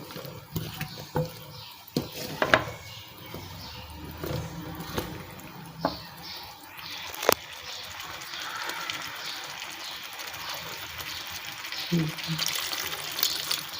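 Water trickles and splashes as it is poured into a cooking pot of turnips, intermittent pouring with small clinks and bubbling, close and fairly quiet, while someone talks over it.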